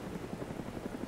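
Helicopter flying overhead in the video game DayZ, a steady low rotor thrum with a faint rhythmic chop, continuous and fairly loud throughout the short stretch.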